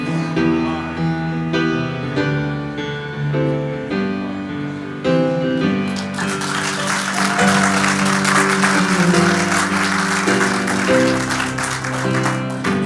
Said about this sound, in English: Dr. Holmes, walks out on the stage to great applause